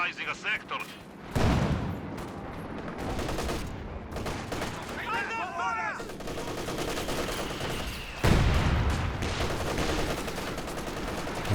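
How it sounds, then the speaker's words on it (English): Double infantry support guns in Company of Heroes 2 pound a squad of conscripts: repeated bursts of heavy gunfire and booming impacts with a busy battle din behind them, with a voice talking over parts of it. "these conscripts getting softened up by the double infantry support guns"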